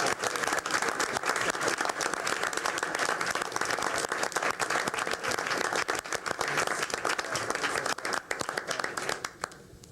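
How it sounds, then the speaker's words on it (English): Sustained applause from a school board meeting audience honoring student swimmers, dense steady clapping throughout that fades slightly at the end. "Let's give them a round of applause"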